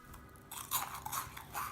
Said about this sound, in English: By now the croutons should be ready and nicely, lightly golden and really crunchy.